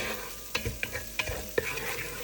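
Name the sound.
chillies frying in a pan while stirring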